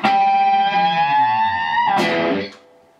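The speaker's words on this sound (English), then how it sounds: "I want to do some behind the nut bends going on" Telecaster electric guitar playing behind-the-nut harmonic bends: one sustained, bright ringing chord whose pitch slowly bends, then a fresh pluck near the end that quickly fades, played alone.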